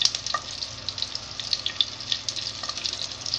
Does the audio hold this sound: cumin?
yes